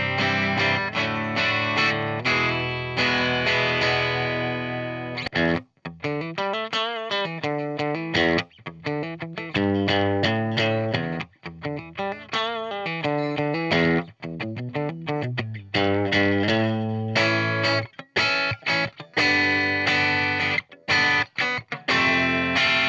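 A Vox AC10C1 guitar amp plays clean with the tube screamer switched off, giving bright chimey chords and quick strummed riffs, loud and continuous without any voices.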